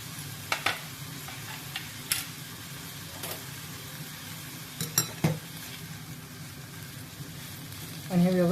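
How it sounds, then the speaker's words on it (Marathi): Spices are stirred into a green tomato and paneer bhurji in a pan, over a low steady sizzle. A spoon taps and scrapes the pan several times, and a voice cuts in briefly at the end. "आणि हे व्यवस्थित मसाले मिक्स करून घेऊया"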